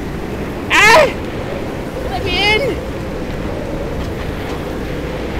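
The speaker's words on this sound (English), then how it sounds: "it's so windy" Strong wind gusts in the Pacific Drive video game, a steady broadband roar in the background that persists throughout while someone talks over it in short bursts.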